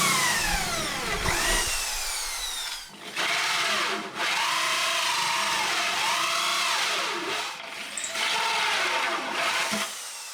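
An electric drill with a drill bit cuts into a guitar soundboard at the sound hole. A loud whining drill rises and falls in pitch in repeated passes, with short pauses, close up.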